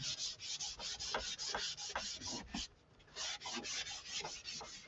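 Wax rubbed onto a surface with an applicator makes faint, rhythmic scuffing strokes in a quick steady back-and-forth, with one brief pause midway before the rubbing resumes.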